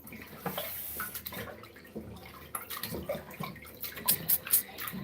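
Cold water runs from a tap into a basin, a steady splashing hiss with some louder splashes toward the end, moderately quiet and close.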